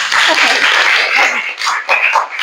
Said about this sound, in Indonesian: Tepuk tangan dulu buat Sukma.